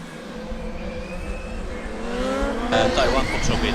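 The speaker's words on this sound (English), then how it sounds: "Ready to drive sound sounding from car number 45 from St. Augustine." A Formula Student race car sounds its ready-to-drive tone at an endurance event, a steady tone over a close engine drone with other cars passing, building louder toward the end.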